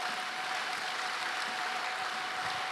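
Church congregation applauding loudly during a Sunday service, a steady dense wash of clapping lasting the whole moment with no talking over it.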